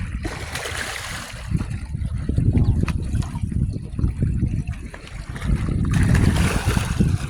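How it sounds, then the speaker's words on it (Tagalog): Sea waves wash back in at low tide on the shore at Clear Water Bay, Hong Kong, a continuous close watery roar that swells and eases, with muffled voices faintly underneath. "Medyo bumabalik na yung alon."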